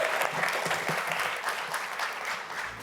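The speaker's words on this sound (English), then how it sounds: "Let's give them a great round of applause." A university audience at a CSUN Bull Ring business pitch event gives a steady round of applause, continuous dense clapping throughout at moderate distance with no talk over it.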